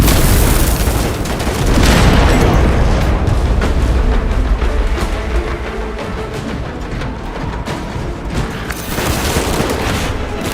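Frag grenade explosion in the video game Space Marine 2: a heavy boom within dense, continuous battle noise and gunfire, loud and sustained throughout.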